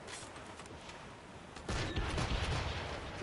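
A gunfire volley erupts during an ambush in a video game, faint crackling shots at first, then a sudden, denser burst of overlapping gunfire halfway through that continues to the end.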